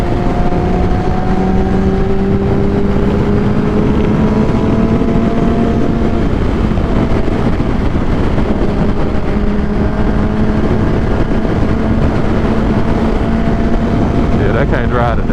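A Kawasaki ZX10R motorcycle engine drones loudly and steadily while accelerating on the road, its pitch rising across several gear changes, heavy wind rush over the microphone throughout.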